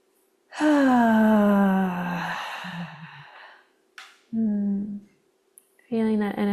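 Deep, slow breaths during a guided breathing exercise: a long audible inhale and a voiced, sighing exhale, then two more breaths after a pause, close and clear.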